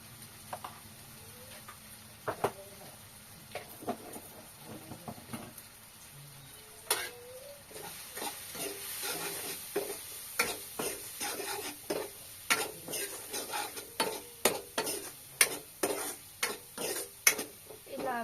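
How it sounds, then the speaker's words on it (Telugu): Bottle gourd and field bean curry fries in a pan while being stirred, a low steady sizzle under repeated sharp scrapes and ticks of a spoon against the pan, growing busier and more rhythmic toward the end, close and fairly quiet. "బాగా అయితే ఫ్రై చేసుకుంటున్నాను వీటిని"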